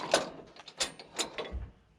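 A torque wrench ratchet handled during caravan hitch work, a few close metallic clicks and clunks spaced irregularly over two seconds, with no talking.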